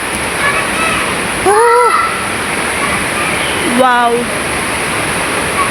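River water rushes steadily in a rural province setting, a broad continuous flow heard throughout at moderate distance, while a person exclaims briefly over it.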